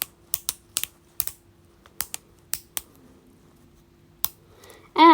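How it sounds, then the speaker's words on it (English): A fidget toy's track-style legs and arms give sharp, distinct clicks as they are moved, about a dozen crisp snaps in an irregular rhythm, close and clear against near silence. "You can move its wacky track legs and arms, and they click"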